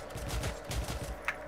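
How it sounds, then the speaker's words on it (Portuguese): Gunfire in the shooter game Cyber Hunter, a faint scattered volley of muffled shots at a distance, ending with one slightly sharper crack, with no talking. "Tem gente atirando aqui"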